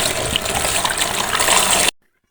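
Tap water gushes steadily over fruits being washed after a Jamai Sashthi puja, a loud continuous rush that stops abruptly near the end, leaving silence.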